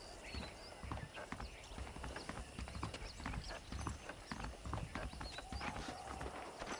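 Horse hooves clip-clop steadily in Red Dead Redemption, a close, even rhythm of hoofbeats with faint tack and mechanical rattles alongside, no voices.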